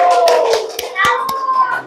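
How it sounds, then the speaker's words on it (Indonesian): A fifth-grade class claps for a classmates' health group, a few sharp, scattered claps heard close up beneath loud children's voices. "tepuk tangan untuk kelompok kesehatan"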